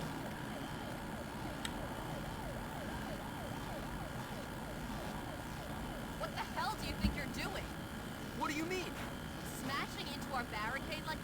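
Police car siren in the video game Bully, a repeating wail cycling steadily under game ambience, with a voice and other brief sounds breaking in toward the end.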